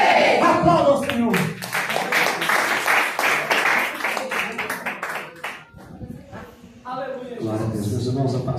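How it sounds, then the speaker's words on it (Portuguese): Church congregation at a Portuguese-language worship service claps in a quick, rhythmic beat under loud voices, dropping briefly before voices rise again. "Aplauda ao Senhor."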